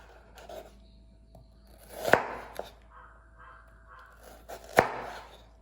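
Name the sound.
chopping potato into finger-sized pieces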